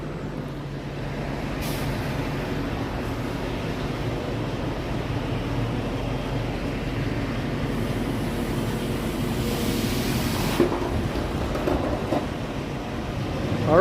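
A train passes in Toronto with a continuous loud low rumble and rolling roar, punctuated by a couple of sharp hissing air bursts, and no talking.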